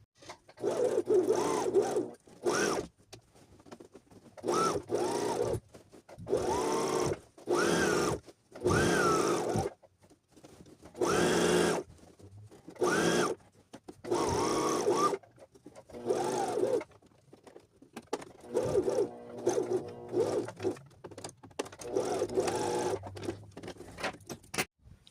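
Sewing machine running around a trouser waistband in repeated close bursts of a few seconds each, separated by brief pauses as the fabric is turned, steady and mechanical with no talking.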